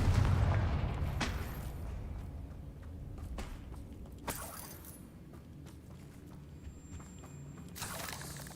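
Fire-spell explosions from the Hogwarts Legacy video game: a loud, deep boom opens, followed by a few sharper blasts spread across the stretch over a rumbling battle background, with no speech.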